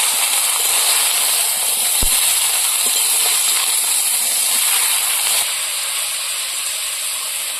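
Green chillies sizzling in hot oil in a pan while being stirred, a steady bright frying hiss with a couple of faint clicks from the stirring, fading slightly near the end.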